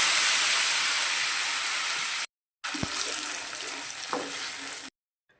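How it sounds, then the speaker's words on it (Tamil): Ground tomato chutney hits hot oil with mustard seeds and cumin, giving a loud, close, steady hiss and sizzle that cuts out briefly, then resumes with a few stirring clicks before stopping. "இப்போ நம்ம அரைச்சி வச்சுருக்க தக்காளி சட்னி சேர்த்துக்கலாம்"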